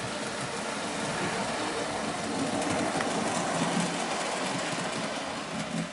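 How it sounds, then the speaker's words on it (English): A model train runs on an Arduino-automated track with a steady rolling rumble and whir that stays at an even, moderate level without pause. "Dude, we got a train running."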